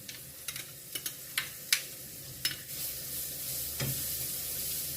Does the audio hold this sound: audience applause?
no